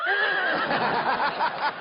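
A person's voice imitates a horse neighing, a loud, close, wavering whinny with pitch bends lasting nearly two seconds.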